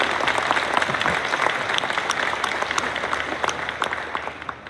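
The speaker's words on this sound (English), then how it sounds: "so extra applause for that" Steady applause from an audience at a varsity sports award program, many hands clapping at moderate loudness with a few sharper individual claps standing out, continuing throughout.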